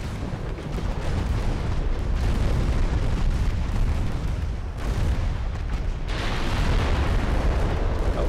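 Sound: battlecruiser main guns firing in Ultimate Admiral Dreadnoughts video game

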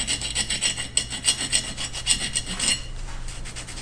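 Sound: scraping an old copper water line with a coin

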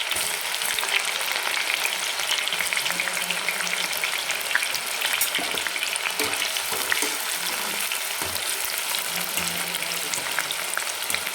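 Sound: onions frying in hot oil

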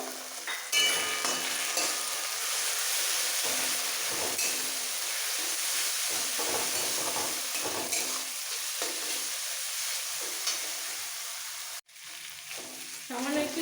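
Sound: stir-frying green chili paste in a pan for fish-head cabbage curry

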